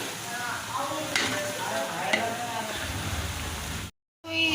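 Onions are stirred and fried in a pan for a chicken dish, a continuous close sizzle with occasional scraping stir strokes, cut off briefly near the end before resuming.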